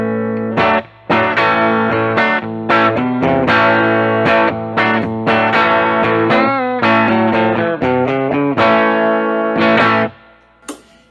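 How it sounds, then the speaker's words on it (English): Electric guitar played clean on the bridge pickup with a touch of reverb, a loud run of picked notes and chords in quick succession that rings out and fades at the end. "So let me give you the clean tone. This is with the bridge pickup."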